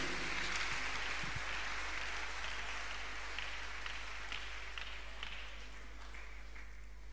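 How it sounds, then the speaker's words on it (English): A church congregation at a Tuesday miracle service claps hands in praise, a fairly quiet, continuous patter of many hands with a low steady hum beneath, gradually fading slightly toward the end. "Clap your hands unto God of the chosen."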